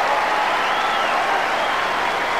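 Steady, dense applause from a tennis crowd fills the air at a 1995 Wimbledon final between Pete Sampras and Boris Becker, loud and continuous without any break.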